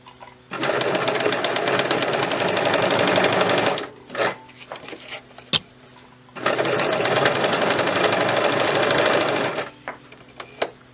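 Sewing machine stitching a seam in PUL waterproof laminate fabric, running in two long steady bursts of rapid mechanical whirring and clatter, separated by a pause with a few clicks and handling sounds, close and loud.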